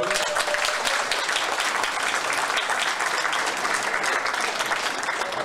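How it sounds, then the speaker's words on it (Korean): An audience claps at a school year-end party in a hall, a dense, loud, even burst of applause sustained throughout with no pause. "모두 힘차게 뜨겁게 박수 부탁드립니다"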